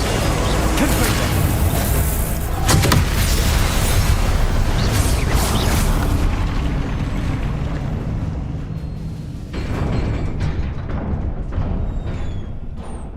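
Dense, continuous booming blasts from Confringo fire spells in the Hogwarts Legacy game wash over a loud roar for most of the stretch, with crackling bursts, then thin out into a quieter rumble near the end.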